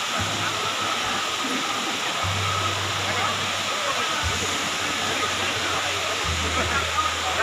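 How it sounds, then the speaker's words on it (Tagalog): A small waterfall overflowing at Casilak, Corella, Davao del Norte roars in a dense, constant rush of falling water, loud and close, with a low intermittent rumble beneath. "Nagawas-awas ang falls."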